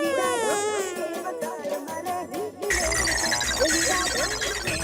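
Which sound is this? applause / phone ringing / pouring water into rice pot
phone ringing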